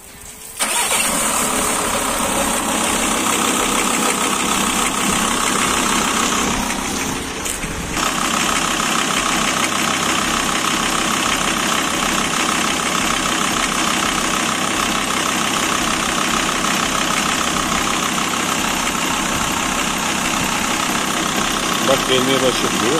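A car engine cranks and catches near the start, then settles into a loud, steady idle that runs throughout, with a brief dip around the middle; the engine has had vinegar poured into it.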